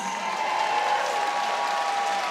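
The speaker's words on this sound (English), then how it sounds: "Big round of applause for the Greyhound." An audience at the Crufts 2019 dog show applauds steadily after a Greyhound is announced, a dense, even wash of clapping held at a moderate level for the whole short stretch, with no voices standing out.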